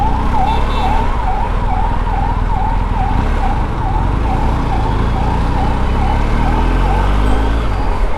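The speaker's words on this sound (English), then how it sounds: "there's an ambulance," An ambulance siren wails in a repeating rising-and-falling pattern amid road traffic, heard from a BMW R1250GS motorcycle with a boxer engine, steady and loud over the low rumble of engines.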